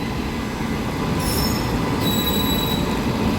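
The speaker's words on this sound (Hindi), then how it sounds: "जयपुर टू भोपाल एक्सप्रेस वो अभी अभी अराइव हो रही है प्लेटफॉर्म नंबर 2 पे" The Jaipur–Bhopal Express of Indian Railways pulls into platform 2 at Vadodara station, a loud, continuous rail rumble broken by two high metallic wheel squeals, with no voices.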